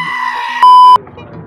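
A goat gives a short, harmonic bleat up close, followed immediately by a loud, steady electronic beep lasting about a third of a second, then low rumbling background.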